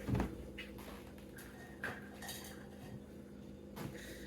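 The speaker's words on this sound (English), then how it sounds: "I'm going to get a ladle" Kitchen utensils, pots and cutlery clatter and clink while someone rummages for a ladle, a run of scattered metallic knocks and scrapes, fairly quiet and close.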